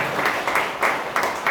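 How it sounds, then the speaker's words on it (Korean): A congregation at a Korean church worship service claps in loose, rhythmic bursts, about three or four distinct pulses per second standing out over a steady background of scattered clapping. "박수 한번 쳐주십시오."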